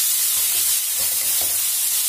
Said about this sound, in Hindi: कढ़ाई गर्म हो गई है, अब इसमें चॉप किया हुआ प्याज का मिक्सचर डाल देंगे।